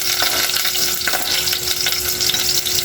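Garlic and onion fry in a pan for a tuna ginataan, giving a steady, dense close sizzle with faint scattered crackles and an occasional light stir, no voices.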